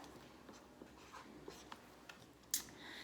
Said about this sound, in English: So I'm gonna write a 5 here.